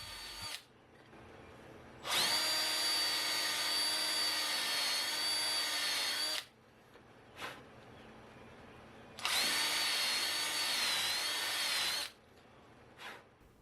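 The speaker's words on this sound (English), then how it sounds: "the last thing to do before installing the quarter knees is to drill, counterbore, and countersink for the fasteners" Two long bursts of a power drill whirring close by, drilling, counterboring and countersinking fastener holes in boat quarter knees, separated by quieter gaps with brief clicks and short spins.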